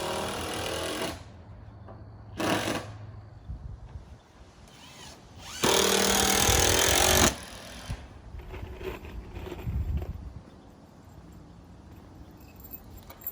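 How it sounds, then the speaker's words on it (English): A power driver sinks number 10 stainless steel 3-inch screws into boardwalk decking outdoors, sounding as a few loud whirring bursts, one longer than the others, between quieter handling noise. "getting all the decking screwed off now"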